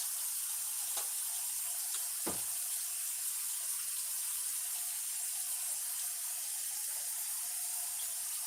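Tap water runs steadily at a sink for hands being washed after cutting a red onion, a continuous broadband wash with a couple of brief knocks early on and no talking.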